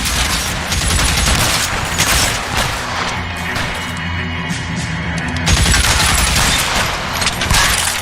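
Sustained gunfire rattles through a shootout in L.A. Noire, loud, dense volleys of shots running steadily for several seconds with brief lulls and a fresh burst near the end.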